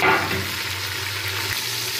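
Tomatoes stirred into browned onions in a pan for chicken pulao give a loud, steady sizzle of frying with a low stirring rumble underneath, and no talking.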